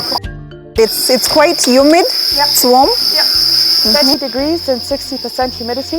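Male crickets on a cricket farm chirp constantly as a steady high, shrill drone, loud and close, under conversation between people talking.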